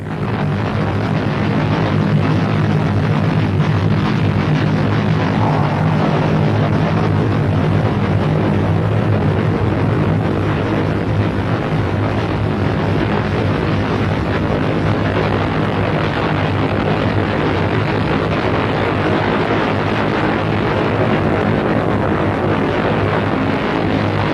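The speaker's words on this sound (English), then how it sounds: "It was not by chance that Apollo 7 lifted off only 2 3/4 minutes after the appointed moment." Saturn IB rocket lifting off with Apollo 7, a steady, dense, loud roar of rocket exhaust filling the whole clip without a break and with no voices.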